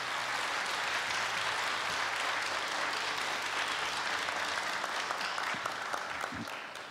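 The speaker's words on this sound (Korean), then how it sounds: "힘찬 박수로 맞이해 주십시오." Dense, sustained applause from a large audience at a Korea University anniversary ceremony, filling the hall evenly and loudly before tapering slightly at the very end.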